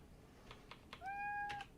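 A hungry pet cat meows indoors, a single drawn-out cry rising then holding steady, preceded by a few soft short sounds, close and fairly quiet.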